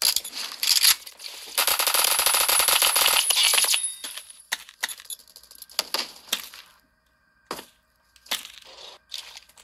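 Rapid automatic gunfire in Roblox Phantom Forces, a dense sustained burst for several seconds, then scattered single shots and clicks, loud and close.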